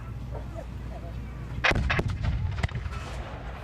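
A cannon fires with a heavy boom, followed by a couple of sharp echoing cracks, over a steady low outdoor rumble.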